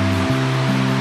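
Steady broadband rush of a waterfall, loud and continuous, with a low droning hum layered beneath the constant roar of falling water.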